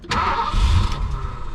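An ASC McLaren project car's engine, primed with a little gas poured straight into the carburetor, cranks with a brief loud churn that catches for a moment and then sputters and fades, close and alone.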